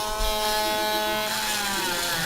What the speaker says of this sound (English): So I can grind it a little deeper to see what we can get a little deeper